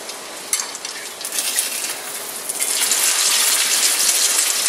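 Slices of bologna fry in hot grease for a fried bologna sandwich, giving a loud, continuous sizzling hiss that swells and grows fuller partway through, with no voices.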